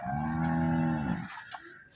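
A single long, deep cow moo at a livestock market, loud and close, fading out into faint background murmur.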